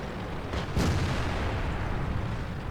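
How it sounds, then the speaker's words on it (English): A single heavy tank cannon shot in World of Tanks, a sharp booming blast that rolls out over a steady rumbling engine and battle background. "That was the first shot that did any damage from their team to myself."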